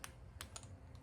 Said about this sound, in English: You turned this little dial. Click, makes a click.